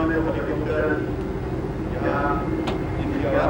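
Three helicopters fly over the 1988 Republic Day parade on Rajpath in New Delhi, a continuous broad engine drone heard through the open-air ambience while a commentator speaks over it.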